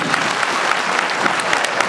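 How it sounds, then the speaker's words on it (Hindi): Loud, dense applause from an audience at a Dhanuk community conference in Bihar, India, a continuous wash of many hands clapping close by with no talk. "जोरदार ताली से स्वागत करिए।"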